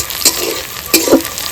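Spice paste of ground chilies and red tomato frying in a pan, a steady close sizzle broken by two brief scraping stirs.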